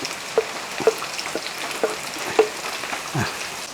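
Bitter gourd dropped onto sautéed shallots in a pan for pavakka thairu curry, soft frying crackle with a few sharp pops and scrapes spaced across the moment.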